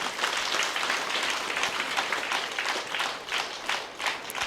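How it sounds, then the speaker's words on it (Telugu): An audience at an Independence Day meditation celebration applauds steadily, dense continuous clapping filling the room at moderate loudness for the whole stretch, with no voices over it. "మరి మేడంకి మనందరం ఒకసారి గట్టిగా క్లాప్ చేద్దాం"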